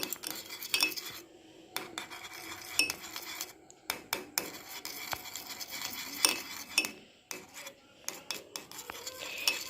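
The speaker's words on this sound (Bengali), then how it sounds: "ভেসলিনটাকে এবার আমি এর মধ্যে মিশিয়ে নেব।" Vaseline being mixed by hand into a homemade rose-petal lip balm, a close, steady scraping and rubbing of a utensil against a small bowl, with repeated short bursts and brief pauses, no one talking.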